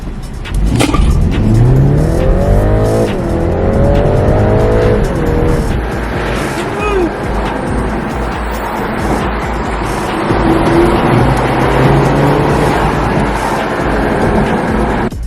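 A BMW pulls away on a Los Angeles test drive and accelerates hard, its engine note climbing through rising gear sweeps with a brief tire squeal, loud and close, road and wind noise filling the background, no talking.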